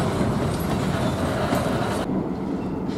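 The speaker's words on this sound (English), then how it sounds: "A fairly decent sized train out here." A CN freight train of boxcars and high-cube cars rolls past with a steady, dense rumble and faint wheel clatter, loud and close throughout.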